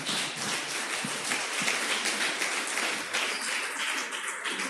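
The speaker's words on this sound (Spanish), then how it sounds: "Denle un aplauso al Señor." Church congregation applauds during a Spanish-language sermon, a faint, steady, diffuse patter of clapping from many hands heard at a distance throughout, fairly even without strong peaks.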